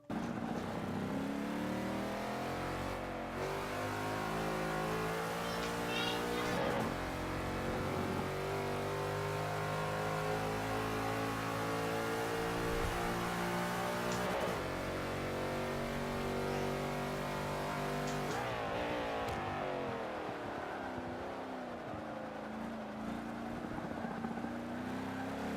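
A video game race car engine revs steadily through a test run, with the pitch climbing, dropping and climbing again through shifts. It stays loud and continuous the whole time, with no talk over it.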